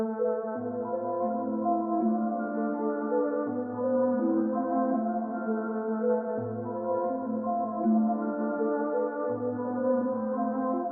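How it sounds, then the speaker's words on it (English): Sonoscore lyrical cello strings in Kontakt playing a slow, dark chord progression, with a low note swelling in every few seconds and a soft bell layered on top, smooth and sustained throughout. "this sound is actually coming from this lyrical cello from Sonoscore in Contact"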